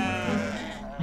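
A sheep gives one close, loud, wavering bleat lasting about a second, heard on a Tunisian farm.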